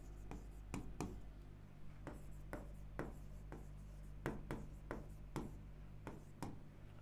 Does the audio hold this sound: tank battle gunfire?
no